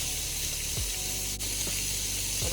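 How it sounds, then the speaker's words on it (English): Steady watery hiss and bubbling, like a pot of water coming to a boil, continuous and fairly quiet with no voices. "So the water is starting to boil again."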